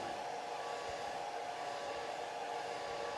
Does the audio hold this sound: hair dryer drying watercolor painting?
yes